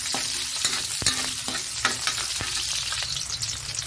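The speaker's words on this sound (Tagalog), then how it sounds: "Isunod na natin yung sibuyas at onion. Isutay lang din po hanggang maluto." Onions sautéing in a pan for an Ilocano dalag fish dish, a loud continuous sizzle broken by repeated scrapes and knocks of a spatula stirring, close up and with no voices.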